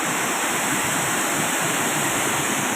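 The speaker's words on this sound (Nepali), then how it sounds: "यो चाहिँ फङफङदेन झरना हाम्रो" Phangphangden waterfall roars as a steady, dense rush of falling water, loud and close, with no other sounds.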